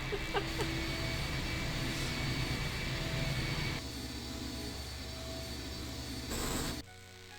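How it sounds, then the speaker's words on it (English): A video game engine running and starting up, a loud continuous mechanical drone and whine that shifts and drops in level partway through, then cuts off near the end. "The engine's starting up again."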